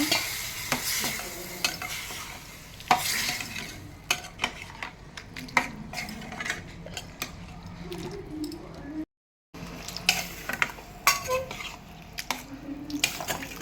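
Veg kurma being stirred in a pan, with repeated scraping strokes of a spoon against the pan over a soft background sizzle. The stirring comes in irregular bursts, near and fairly quiet, with a short silent gap partway through.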